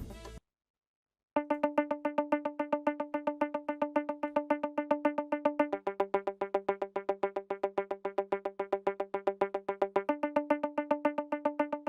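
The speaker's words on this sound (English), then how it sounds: "next up we have this muted guitar that was used in this song" Muted guitar in an Afrobeats beat remake plucks a fast, even stream of short damped notes, shifting pitch partway through before returning, dry and close with no voices after a brief opening blip.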